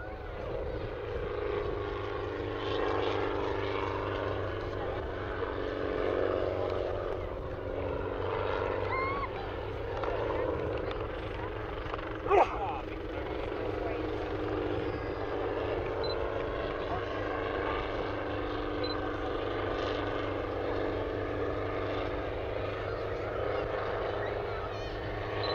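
A Schweizer 300 helicopter's steady engine drone and rotor chop fill the air continuously at an air festival, fairly loud and close, with a brief sharp knock midway.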